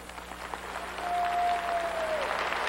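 A large crowd at a prayer rally in Seoul's Olympic Stadium applauds steadily, the clapping swelling a little midway and holding as a dense, continuous patter; a faint feedback-like tone whistles briefly through it.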